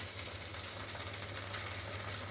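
Food frying in a pan as a little oil is added at the edge before flipping, giving a faint, steady hiss and crackle with a low hum underneath and no talking.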